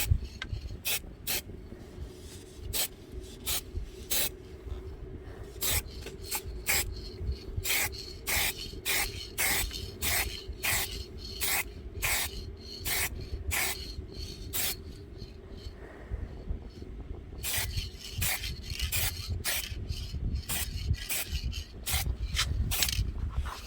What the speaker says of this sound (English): you then spray the surface that you want to look the best